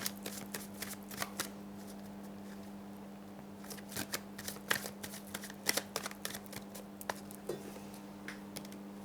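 A tarot deck is shuffled in soft, irregular bursts of crisp card flicks and slaps, quiet and close, with a constant low hum underneath.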